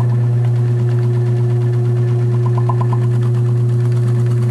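A bowling ball spinner runs at high speed while abrasive compound is burned into the ball during resurfacing, giving a loud, steady motor hum with a constant drone that never lets up.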